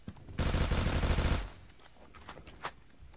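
Honey Badger rifle in a capture-the-flag shooter video game firing in a rapid machine-gun burst, a loud continuous stream of shots for about a second, followed by a few scattered single shots and faint footsteps.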